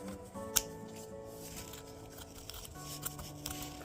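Sharp scissors snip through fabric for a ghost costume, a few close, crisp cuts and rustling over quiet background music.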